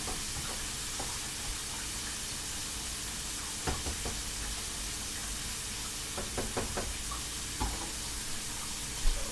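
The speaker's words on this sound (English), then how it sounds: "Stirring up this hamburger meat." Hamburger meat sizzles in a pan as it is stirred, giving a steady, close frying hiss broken by occasional light knocks of the utensil against the pan.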